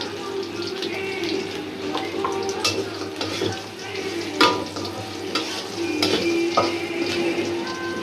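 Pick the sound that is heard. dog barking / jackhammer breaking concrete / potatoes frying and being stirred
potatoes frying and being stirred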